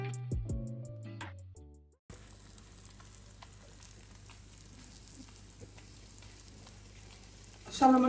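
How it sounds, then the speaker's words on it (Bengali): Paratha frying in oil in a pan in the morning gives a steady, low sizzle at close range, starting after a brief patch of other noise and ending with a louder clatter. "সকাল সকালে পরোটা ভাজছি।"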